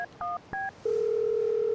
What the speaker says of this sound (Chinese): 我现在就给我爸打电话